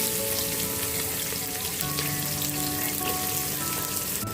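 Sliced medium-size onions fry in hot oil with whole spices for a mushroom biryani, giving a close, dense, steady sizzle that crackles without a break and has no voices over it.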